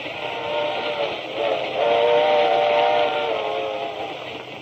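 A steam whistle blows a long, loud, sustained wail with a harmonic tone, swelling in the middle before easing off slightly.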